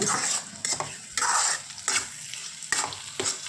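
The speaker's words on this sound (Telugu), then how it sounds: "పూర్తిగా మొత్తం తిప్పుకోవాలి" A spoon stirs onion egg fry in a sizzling pan, scraping in quick repeated strokes, close and loud over a steady frying hiss.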